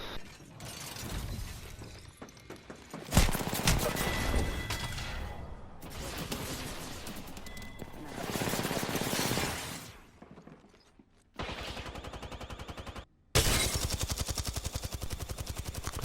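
Weapon fire in the Apex Legends battle royale game, heard as dense bursts of rapid automatic shots in several loud volleys separated by brief pauses, with mechanical clatter between them and no talking.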